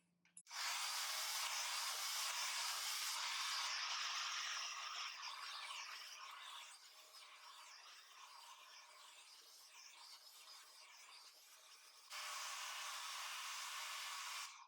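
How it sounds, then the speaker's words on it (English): A hair dryer blows with a loud, steady airy roar while styling medium-length hair with a brush, dropping to a softer setting midway, then jumping back to full power near the end. "Use the back of the hair dryer to take away any hot air"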